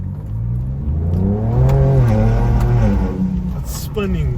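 A Ford Ranger Raptor pickup engine revs hard as its wheels spin, a loud rising and falling roar close by, with a voice talking over it.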